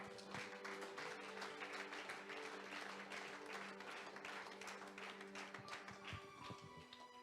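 A church congregation at a worship gathering applauding, dense sustained clapping from many hands throughout, with a faint tonal hum underneath and no distinct talk.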